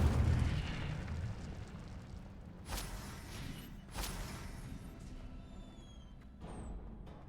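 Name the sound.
Incendio fire spell cast in a magic video game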